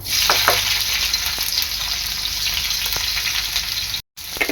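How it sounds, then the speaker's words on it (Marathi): Chili and onion dropped into hot oil, a loud, steady crackling sizzle with bursts of spatter and light stirring, continuous until a brief cut near the end. "यामध्ये टाकणार आहे मी मिरची आणि कांदा"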